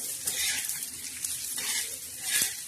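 Black masala spice mix dry-roasting in a pan, with a steady, close sizzle and scraping stir strokes that swell now and then, and light clinks of a utensil against the metal; no talking.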